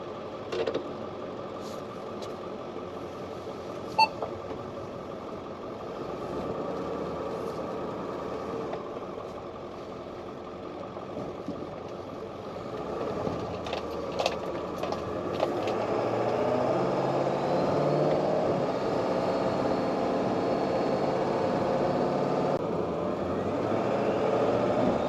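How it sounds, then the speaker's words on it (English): A 2001 Ford Excursion on the road, with a steady low engine and road drone from inside the cab that gradually builds as it picks up speed, accompanied by a few small clicks and rattles. "Let's just go ahead and give it a drive and see how she does."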